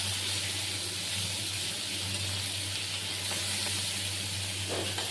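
Fried shrimp with chopped garlic in a pan, giving off a steady loud sizzling hiss close up, with a low hum underneath and faint stirring scrapes.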